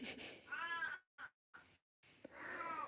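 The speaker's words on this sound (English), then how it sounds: "it turns out it's a very vocal cat" A very vocal cat meows in a few drawn-out, wavering cries separated by short gaps, with a faint voice between them, recorded somewhat quietly indoors.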